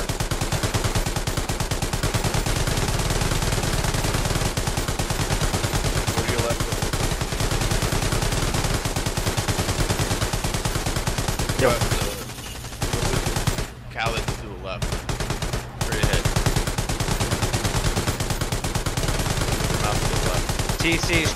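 Sustained, dense gunfire rattles through tank training in the World War II game Hell Let Loose, loud and nearly continuous, with a brief pause midway before the firing resumes at full intensity.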